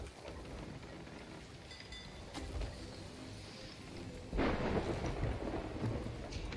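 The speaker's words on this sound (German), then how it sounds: "Da ist schon der erste Blitz." Thunder rolls through a storm in the pirate video game Sea of Thieves, a long low rumble with rain hiss that swells into a louder crack and roar partway through, heard alone without talk.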